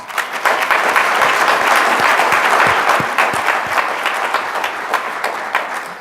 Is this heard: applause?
yes